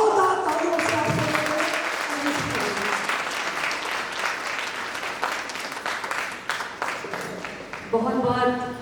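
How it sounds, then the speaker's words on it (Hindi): Loud, sustained audience applause at a Hindi poetry gathering (kavi sammelan), dense clapping filling the room for several seconds, with tonal music or voices faintly audible at the start and end. "जोरदार तालियों से"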